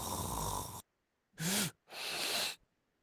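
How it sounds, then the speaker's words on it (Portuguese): A person snores during sleep: two loud, rasping snores on the inhale after a stretch of noisy breathing, each separated by brief silence, close and unaccompanied by talk. "é a fonte do ruído que se ouve quando alguém está roncando."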